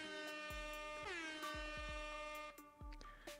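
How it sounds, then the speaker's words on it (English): Repeated blasts of an air horn sound effect, loud and brassy, several short bursts in quick succession with one long honk. "the default sound effects, so you can play things like the air horn"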